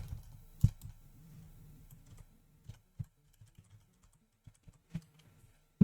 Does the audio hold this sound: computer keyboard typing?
yes